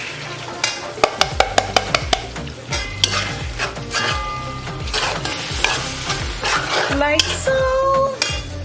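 Pigeon peas and coconut milk poured into a pot for Boricua-style arroz con gandules, then stirred, with clanking utensil taps against the pot, a steady wet sizzle and scraping, and a brief voice near the start.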